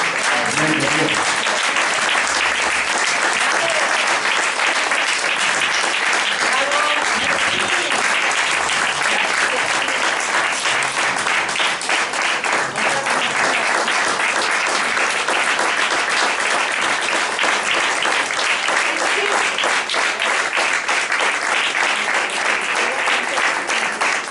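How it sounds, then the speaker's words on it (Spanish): Sustained, loud applause from a large crowd at a poetry recital fills the whole stretch, a dense, even roar of clapping without pause. "Un aplauso para Manuel González Álvarez."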